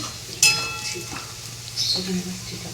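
Onions browning in a pan for a home-style chicken dish: a sharp metal utensil clang against the pan, then a soft sizzle and stirring scrapes underneath.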